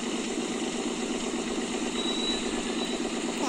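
An auto rickshaw engine idles in the Indian Auto Simulator video game, a steady, even rumble that holds at a constant level throughout with no voices.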